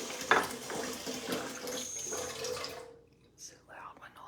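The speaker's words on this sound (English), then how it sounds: "So loud when all the water just goes into the dishes from dinner last night." Tap water runs into last night's dinner dishes in a kitchen sink, a steady hissing splash heard close up that cuts off near the end, with a quiet whispering voice over it.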